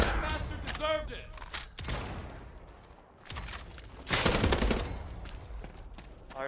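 Gunfire in the multiplayer shooter Battalion 1944, a World War II style game, with sharp volleys and bursts in several clusters spread across the moment, mixed with voice chat.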